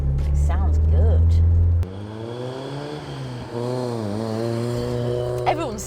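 A Toyota AE86 Corolla engine drones while driving, a loud low hum that shifts pitch as the revs rise and fall through gear changes, heard from inside the car with someone talking over it.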